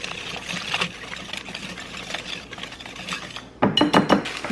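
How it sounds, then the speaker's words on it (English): A whisk clinks and scrapes against a bowl as sweetener and coleslaw dressing are mixed, with soft stirring at first and then a quicker run of sharp, close metallic taps. "I'm just gonna whisk this all together."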